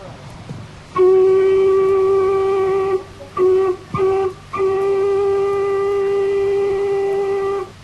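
A loud steam locomotive whistle on the Southport to Preston line in 1964 holds one long steady tone, cuts off briefly twice in quick toots, then sounds again in a long sustained blast.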